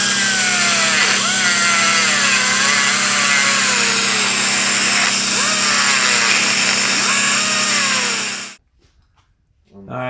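An angle grinder runs loud and steady against the front cover of a Mercedes turbo diesel engine, its pitch dipping and rising under load for over eight seconds before cutting off abruptly.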